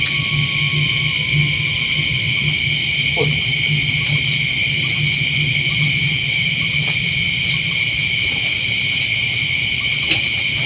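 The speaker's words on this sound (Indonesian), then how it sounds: "Ternyata ada burung hantu di belakang saya ini nih." Owl hooting in a night forest, faint and intermittent, set against a steady loud drone of crickets and insects with no one speaking.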